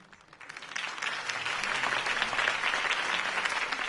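Steady crowd applause in a Batman video game, many hands clapping densely, swelling in over the first second and holding loud to the end.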